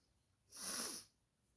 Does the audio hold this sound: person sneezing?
yes